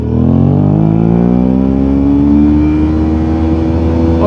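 A Suzuki V-Strom 650 motorcycle revs hard in first gear at about 80 km/h, a loud, sustained engine drone with rising pitch that holds near its limit, close and alone without talk.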